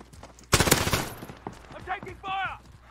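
Gunfire in the video game Modern Warfare, played in a hipfire-only match: a loud burst of rapid shots in the first second, then quieter game effects and clatter with a short rising electronic tone near the end.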